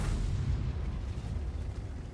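Artillery in a tank video game fires and its shell explodes, one muffled boom that rolls off into a rumbling decay, heard alone without talk.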